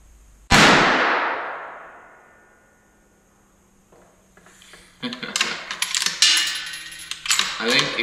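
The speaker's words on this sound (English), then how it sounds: "I'm gonna send one more here." A single sharp rifle shot from a Savage Arms Axis .223, loud and close with a long decaying ring, followed by metallic clinking and handling noises.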